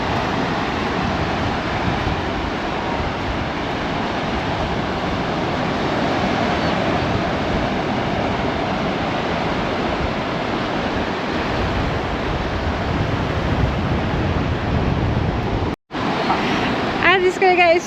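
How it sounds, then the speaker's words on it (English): Strong wind roars steadily across the microphone with a broadband rush, likely surf blending in underneath, briefly cutting out near the end. "It's very, very windy,"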